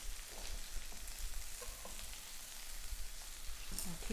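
Sliced onions fry and brown in a pan with a soft, steady sizzle and crackle. The sound is faint and close, with an occasional light stir and no talking.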